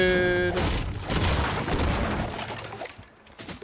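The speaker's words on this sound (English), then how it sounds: "Gunfire up ahead, bro." Video game gunfire crackles in a burst of rapid shots and booms, loud at first then fading with scattered pops toward the end, no voices over it.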